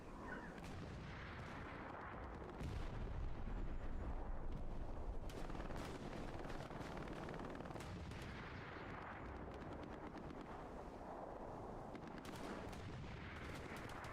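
Dense, continuous gunfire from a World War II style online multiplayer match, with rapid bursts and heavy booming shots layered into a loud, sustained battle din and no talk.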